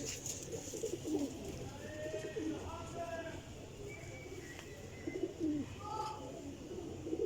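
Several flying-breed pigeons coo repeatedly in low, rolling calls over a constant noisy background, with faint chirps and possible distant voices mixed in.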